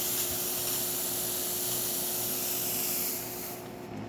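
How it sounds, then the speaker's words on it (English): Steady, broad steam hiss from a La Pavoni lever espresso machine, a continuous close spray under a faint low hum that eases slightly in the last half second. "Pressure of the steam, as you can see, pretty good."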